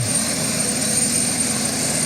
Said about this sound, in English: There we go then, the helicopter